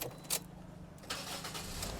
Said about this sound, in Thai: เดี๋ยวสตาร์ทเครื่องให้พี่ๆได้ดู